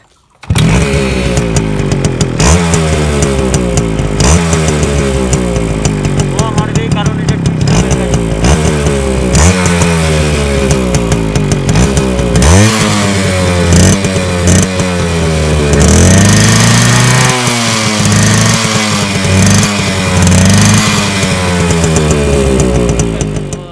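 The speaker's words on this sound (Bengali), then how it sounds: "এই সাইলেন্সারে রেখে তোমাদেরকে আমি একটা শর্ট সাউন্ড শোনাচ্ছি গাড়িটার।" Modified motorcycle built from a Max 100 with an aftermarket silencer, revved repeatedly in loud rising and falling bursts, the exhaust crackling and roaring close up without talk.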